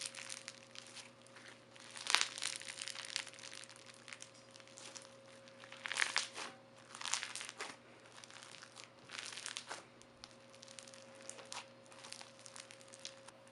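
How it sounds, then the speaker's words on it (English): Close, crackly crunching and squishing of a crunchy peach foam slime comes in irregular bursts over a steady low hum, with no voices. "So this next slime is a peach foam, and it's super crunchy."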